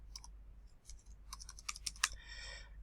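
Someone types on a computer keyboard in a quiet room, giving a quick, uneven run of soft key clicks close to the microphone over a low steady hum.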